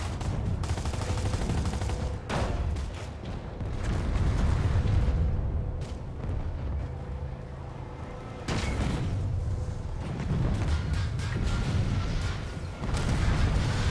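Gunfire and explosions rattle through a large-scale Planetside 2 battle, with dense bursts of shots and booms that come in waves and sharp breaks, sounding fairly distant and muffled.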